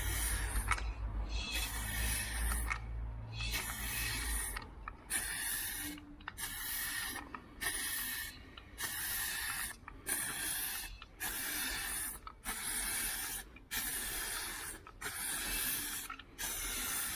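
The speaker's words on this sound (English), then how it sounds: "slip over the top of the rattle can and allows you to sort of use it like a spray gun" Spray paint hisses from a rattle can fitted with a clip-on spray gun handle during a car panel respray, coming in repeated steady bursts separated by short pauses, close and fairly loud.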